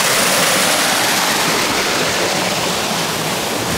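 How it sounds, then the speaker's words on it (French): Water rushes steadily along a levada irrigation canal on Madeira, a constant, close, fairly loud flowing hiss with no voices over it. "Donc voilà une vraie levada. Canal d'irrigation d'eau."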